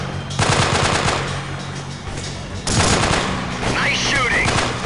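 Heavy automatic gunfire rattles through a firefight in the Delta Force Black Hawk Down video game, loud, close sustained bursts pausing briefly before another long volley, with faint radio-style voices under the shooting.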